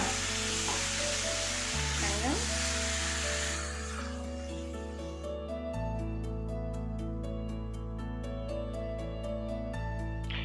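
Chicken frying in a pan with tomato and ginger garlic paste gives off a steady, close sizzle, with a few stirring scrapes early and a faint rhythmic ticking later.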